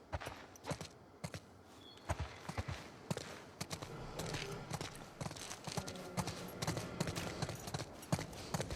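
Horses walking in The Last of Us Part II, a quiet steady clip-clop of hooves over a faint outdoor ambience, rhythmic and continuous at moderate distance.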